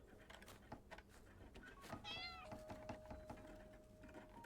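A cat in the video game Dordogne gives a short meow, faint and brief, set within soft clicks and background game sounds.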